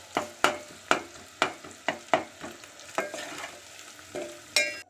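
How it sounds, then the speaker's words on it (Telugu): Coriander powder fries in oil with onions for a potato and brinjal curry, with about ten sharp, rhythmic spoon scrapes against the pan over a soft sizzle, close and clear with no voices. "ఉల్లిగడ్డలతో పాటు ఉడుకుతుంది"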